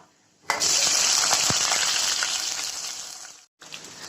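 Long-sliced big onions drop into hot oil for a raw mango sambar and burst into a loud, close sizzle that keeps going for about three seconds, then gets cut off briefly before the frying resumes.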